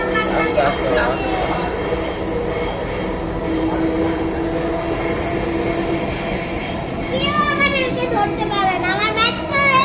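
Dhaka Metro Rail train running between Motijheel and Uttara, a loud steady rumble with squealing wheels throughout, rising into sharper screeching toward the end, with people talking inside the carriage.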